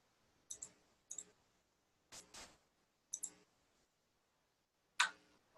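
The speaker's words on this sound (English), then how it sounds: "I'm typing, clicking," A few sharp computer clicks at a desk, small clustered taps at irregular intervals about a second apart, close and quiet against near silence, with no talking.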